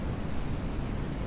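Modest ocean waves at Teleng beach in Pacitan wash in a steady broadband roar, with wind and surf blended into a constant, fairly soft rush.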